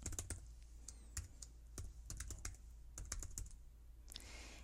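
Typing on a computer keyboard while creating a password for a website account, a quiet steady patter of key taps in irregular bursts with a brief pause, no voices.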